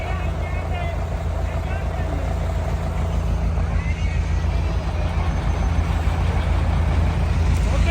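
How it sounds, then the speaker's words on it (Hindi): Dense traffic jam on Shorkot Road, Pakistan, with a steady roar of idling and creeping trucks, buses and cars close by, engine rumble continuous throughout. "लेकिन हम इस वक्त फंसे हुए हैं बुरी तरह से इस ट्रैफिक जाम के अंदर"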